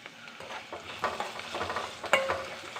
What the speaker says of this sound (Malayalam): ഇത് കുറച്ച് ഇഞ്ചി, ഉള്ളി, പച്ചമുളക് ഇത് നമുക്ക് നല്ലോണം വാട്ടിയെടുക്കാം